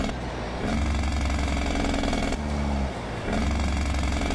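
Jake brake on a truck in a driving video game: loud, rapid staccato engine braking chatter in long bursts, broken by brief pauses between them, with no talking.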